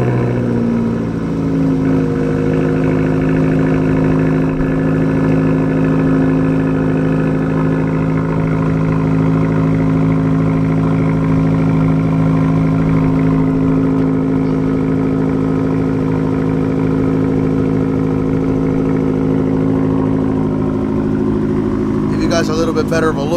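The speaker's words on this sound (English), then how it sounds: "we're gonna give you guys another little listen here to the Fiat," A Fiat car's engine runs at a steady idle and rises briefly in revs, a close, continuous mechanical hum with strong low harmonics, and the sound dips toward the end.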